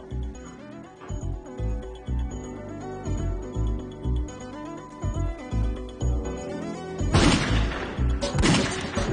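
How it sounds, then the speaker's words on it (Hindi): A sharp burst of loud cracks near the end, like gunfire, cutting in over steady rhythmic music. "गोली की आवाज है। गोली चली?"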